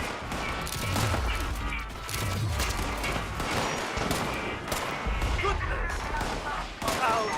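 Gunfire in the video game Fallout 76, repeated rapid bursts of shots and crackling fire in quick succession over a busy combat background, with a voice talking in places.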